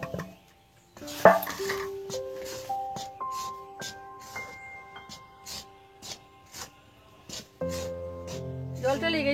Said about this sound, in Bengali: এবার এই ফোটানো জলের মধ্যে ওই চাল গুঁড়োগুলো দিয়ে দিচ্ছি। দেখুন বন্ধুরা, নাড়তে হবে।